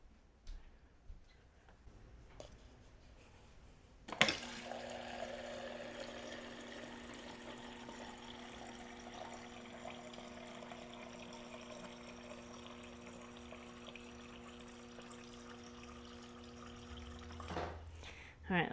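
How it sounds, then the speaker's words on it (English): A drinking bottle fills from a kitchen tap, a steady close stream of water running for about thirteen seconds with a faint rising tone, framed by clicks and handling knocks at the start and end. "So I'll fill this up so I make sure I'm drinking water in addition to hot drinks"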